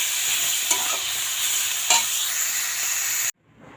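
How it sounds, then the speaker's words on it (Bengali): Cabbage being stirred in a sizzling frying pan for a vegetarian Bengali cabbage ghonto with ginger-cumin paste, a steady loud fry with two distinct spatula scrapes, cutting off abruptly near the end. "বাঁধাকপিটা দিয়ে এটা একটু নাড়িয়ে নেব।"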